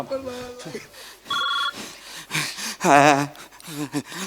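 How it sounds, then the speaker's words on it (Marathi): A short electronic phone ring bursts out briefly amid lively talking and laughter, heard clearly but only for a moment. "थांबा, त्याला फोन आलाय."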